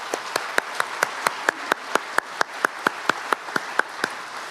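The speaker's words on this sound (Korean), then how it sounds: "감동적인 공연을 선사해 주신 합창단 분들께 다시 한번 큰 박수 부탁드리겠습니다." A crowd at a police commemoration ceremony claps for a choir in steady unison beats, about three per second, sharp and even over a faint hall ambience.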